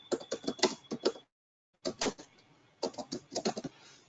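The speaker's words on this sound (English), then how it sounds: "we can type like this" Quick keystrokes on a computer keyboard come in three bursts of rapid clicking, separated by short pauses, close and clear with no voices.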